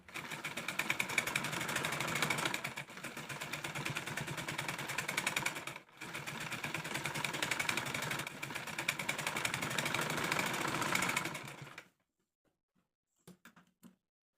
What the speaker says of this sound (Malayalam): ഇനി കുറച്ച് ഗ്യാപ്പ് വിട്ട് ഇതേ ഷേപ്പിൽ തന്നെ ഒരു വട്ടം കൂടി അങ്ങ് സ്റ്റിച്ച് ചെയ്തെടുക്കാം